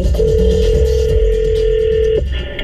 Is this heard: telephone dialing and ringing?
yes